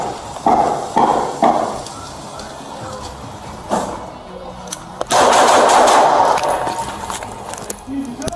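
A volley of gunfire in a police shootout, several loud bursts of shots at close range followed by a sustained harsh burst, with a voice in the background.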